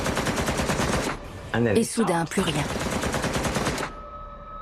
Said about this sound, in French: Plein de coups de feu.